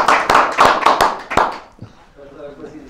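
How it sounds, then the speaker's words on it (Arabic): Audience applause at a Ramadan evening music and talk show, a burst of clapping from a crowd for about a second and a half that then fades into quiet room tone. "وتصفيقات عليك"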